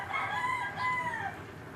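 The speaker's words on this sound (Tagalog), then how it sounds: "Ayan, bird sa bubong-bubong." A rooster crows from a rooftop, a clear, strained cock-a-doodle-doo with rising and falling pitch lasting over a second, fairly near and alone with no talk.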